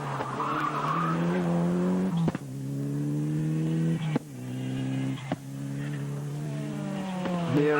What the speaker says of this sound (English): Evo 3 Mitsubishi